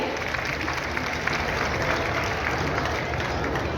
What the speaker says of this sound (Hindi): आप सभी की जोरदार तालियां मंच तक जरूर पहुंचनी चाहिए।